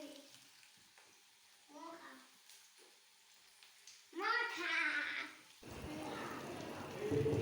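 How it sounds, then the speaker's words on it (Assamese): Onion, garlic and ginger frying in a pan. Children's voices come first, then a steady, close sizzle takes over for the last couple of seconds. "পিঁয়াজ নহৰু আদাখিনি এনেকৈ ভালকৈ অকণমান ভাজিব লাগিব ৰঙচুৱা হোৱালৈকে"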